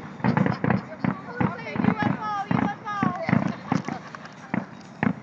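Fireworks pop and crack outdoors at a housing project in a rapid, uneven string of sharp bursts, fairly close, while people talk excitedly over them.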